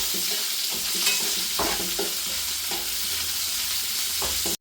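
Onions, green chilies and shallots sauté in a pan for a soybean roast, giving a steady, close frying sizzle with repeated scraping knocks of a spoon stirring through them.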